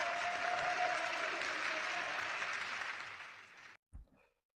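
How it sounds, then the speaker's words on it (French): Audience applause in a hall after a peace-accord speech, steady dense clapping that fades and stops abruptly near the end, followed by a brief thump. "Applaudissez."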